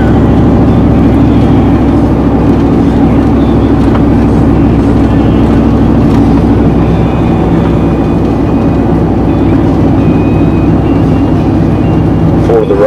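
A car cruises at a steady 2200 RPM during a gearbox test, its engine and road noise forming a loud, constant low drone throughout.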